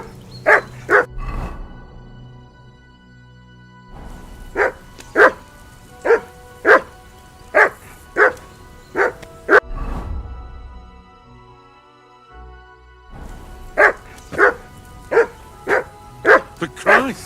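Dog barking in the video game Kingdom Come: Deliverance II, loud, close bursts of sharp barks, a pair at the start, then a steady run of about nine, then another rapid series after a pause, with low rumbling between.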